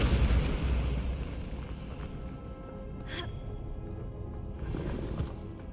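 Bombarda spell blast in Hogwarts Legacy, a loud booming burst at the start that decays into rumbling debris, with a sharp hiss of spray midway and another surge near the end.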